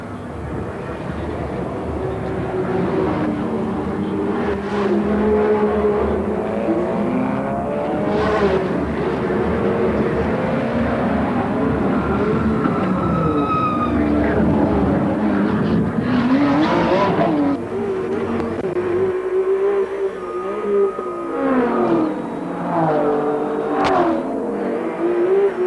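Onboard ride in a Nissan GT-R touring race car at a street-circuit race in Wellington, New Zealand: a loud, continuous engine note rising and falling through gear changes, with occasional tyre noise and faint voices underneath.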